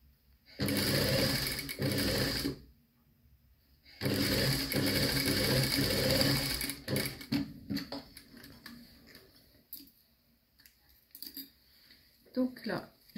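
A domestic sewing machine stitching a zipper onto a recycled handbag runs in two sustained bursts of rapid whirring, then gives way to quieter handling rustles and clicks as the fabric is adjusted.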